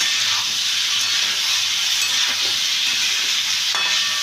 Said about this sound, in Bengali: এরকমভাবে আমি কষিয়ে নিচ্ছি